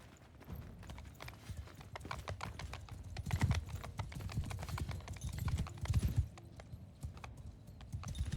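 Horses on the move in Mount & Blade II: Bannerlord, a dense, continuous patter of hoofbeats that swells and fades, fairly quiet with faint background voices.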